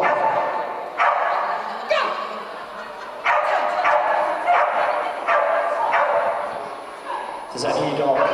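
A dog at an agility competition barks and yips in short, sharp bursts at close range, repeated every second or so, with voices heard over and between the barks.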